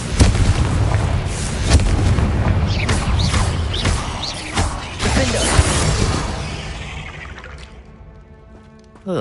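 Repeated Confringo blasting-spell explosions in the video game Hogwarts Legacy, loud booming bursts and crackling impacts layered over dense game noise, fading toward the end.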